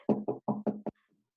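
A voice imitates knocking on a door with five quick, rhythmic knock-like syllables, close and clear, followed by silence.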